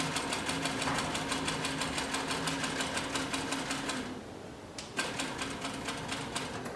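Sewing machine stitching through two layers of 3 to 4 ounce leather, running steadily in a fast, even rhythm close by, pausing briefly near the end before starting again.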